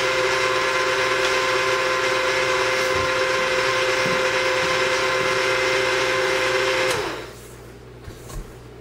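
A stand mixer kneads whole multi-grain bread dough with a loud, steady motor whine that runs for about seven seconds, then cuts out, leaving a quiet room with a couple of faint clicks.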